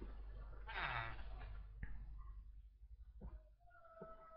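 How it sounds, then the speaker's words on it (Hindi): Goats bleat in a survival video game, with a loud wavering bleat early on and fainter game sounds afterward. "तेरी बकरी आज से मेरी बकरी हो गई रे"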